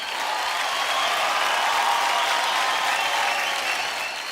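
A studio audience on a televised singing competition gives sustained, even applause for a judge, a dense wash of clapping that holds steady at full strength from start to finish.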